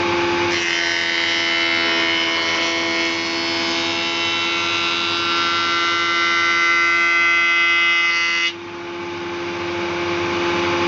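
Saw bench cutting a hard piece of wood, a steady loud whining buzz of the blade through the timber that drops off abruptly as the cut finishes, leaving the machine idling.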